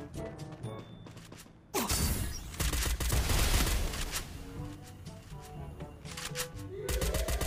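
Gunfire in a shooter video game featuring a reworked Santino character: dense bursts of rapid shots, loud and close, with a quieter clattering stretch before the firing breaks out.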